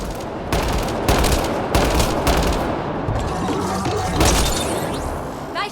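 Gunfire in the video game Mass Effect Andromeda, loud rapid bursts of shots with sharp cracks and impacts layered over a busy, dense combat din.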